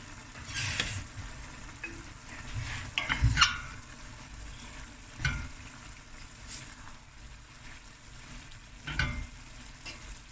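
Turmeric and masala spices sizzle in a pan for mince curry, a steady close frying hiss broken by occasional stirring scrapes and clatters, with no talking.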